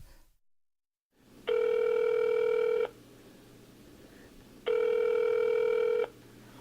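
Telephone ringback tones sound as a call connects before a recorded phone conversation. Two steady rings, each about a second and a half long, are separated by a pause over faint line hiss.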